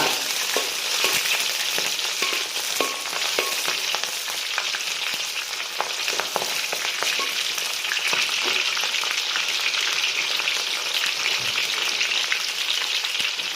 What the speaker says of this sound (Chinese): 好，这个时候呢，倒入我们准备好的这个3斤牛杂。 然后呢，翻炒均匀。